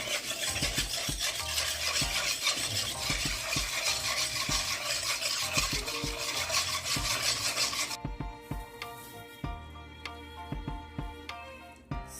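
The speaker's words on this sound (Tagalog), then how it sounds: "Dissolve it again. Just mix it. Just keep on mixing." Dry ingredients for homemade pork tocino mixed until dissolved: steady, dense rubbing and scraping for several seconds, then slower separate scrapes and taps, close by.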